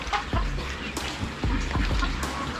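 A pregnant hen in a backyard flock clucks in several short, close bursts, with faint talk and other farm noise around it.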